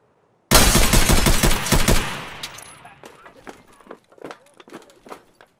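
Loud, rapid automatic gunfire bursts out in the shooter game Escape From Tarkov, a dense close volley that then trails off into scattered shots, footsteps and shuffling.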